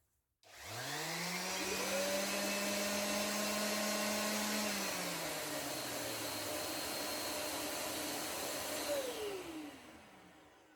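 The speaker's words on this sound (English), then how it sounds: "Now when I press this on, the vacuum should turn itself on." A Trend T33A M-Class dust extractor vacuum switches on after a brief silence, its motor whining up to speed, then holding a loud, steady roaring drone until the end.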